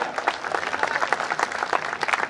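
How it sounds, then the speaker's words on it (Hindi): Loud audience applause at a Hindi kavi sammelan poetry gathering, a dense, steady patter of many hands clapping together for about two seconds with no voices over it. "एक बार जोरदार तालियां।"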